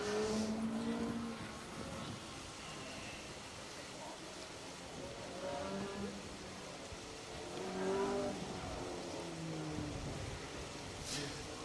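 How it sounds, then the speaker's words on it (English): A Volvo rally car on a 2025 RAC Rally stage approaches from a distance, its engine note rising and falling through gear changes, heard faintly beneath ongoing live commentary voices. "You can hear the Volvo coming."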